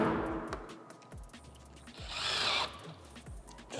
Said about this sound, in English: use the drill and just get these things nice and